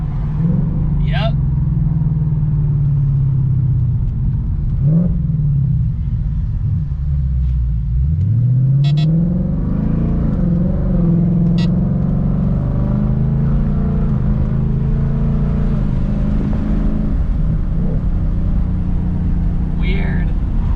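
A car engine revs and drops back as the driver lifts off the gas, with automatic rev matching, a steady close rumble running throughout under people talking inside the cabin.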